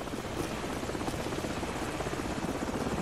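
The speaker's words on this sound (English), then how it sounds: "the helicopter's back" Helicopter in Call of Duty Modern Warfare returns overhead, a loud, continuous rotor thumping and engine roar that fills the whole stretch without pause.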